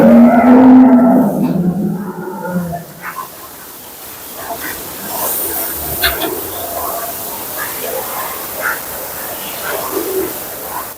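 Crossbred Friesian dairy cows, a high-milk-yielding herd on a farm, give a deep moo near the start, followed by quieter farmyard ambience with people talking nearby.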